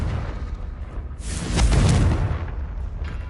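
Confringo spell blast in Hogwarts Legacy on PS5, a single heavy booming explosion swelling up midway through and slowly rumbling away over steady background ambience.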